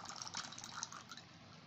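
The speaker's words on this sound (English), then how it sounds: "We see that water comes from the spout and collect in the glass." Water spills from the spout of a pot into a glass as a stone on a thread is lowered into the full pot during a physics class demonstration, making a faint, continuous trickle.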